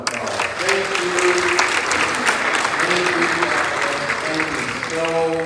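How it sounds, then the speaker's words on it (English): A conference audience applauds loudly and steadily for several seconds, dense clapping from a full room with voices talking over it throughout. "Let's give him another round of applause."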